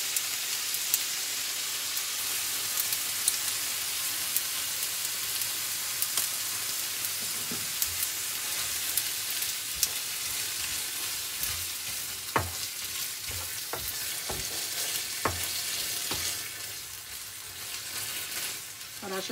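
Konjac spaghetti in a tomato and cream sauce simmers and sizzles in a pan, a steady frying hiss with occasional sharper pops and spoon scrapes toward the end.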